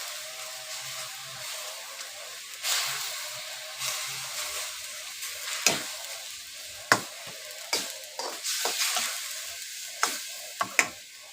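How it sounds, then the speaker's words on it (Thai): Minced pork stir-fried in a hot pan for a Thai glass noodle dish: steady sizzling and frying hiss, broken by sharp scrapes and clacks of a spatula against the pan at irregular intervals. "เราจะรวนหมูก่อน รวนหมูให้สุกก่อน"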